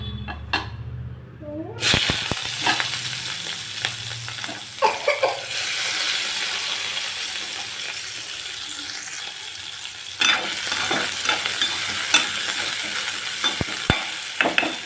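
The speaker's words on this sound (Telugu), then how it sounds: "ఉల్లిపాయలు బాగా యాగాలి" Steady crackling sizzle of onions and green chillies frying in a pan, with scraping and clinking of a spoon stirring, continuous and close after a brief quiet start.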